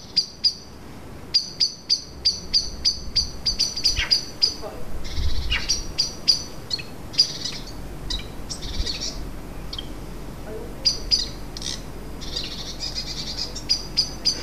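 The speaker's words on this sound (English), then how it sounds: "we can only hear the blackbirds" Blackbirds sing and call from a tree holding several nests, bright repeated chirps and whistled phrases coming in bursts over a quiet outdoor background.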